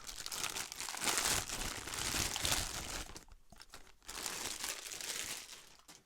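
A zipper is drawn open around a Sony 85mm f1.4 G Master lens case, giving a close, rasping crinkly rush in two long pulls separated by a brief pause, with no talking.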